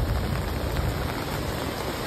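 Heavy, steady May downpour by the flooding Ulhas River, roaring without pause, a dense wash of rain drumming on surfaces.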